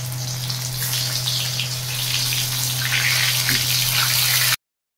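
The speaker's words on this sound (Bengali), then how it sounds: "এখন মাছ ভাজা চলছে" Fish fries in hot oil in a pan, giving a continuous bright sizzling hiss over a steady low hum, with no talking.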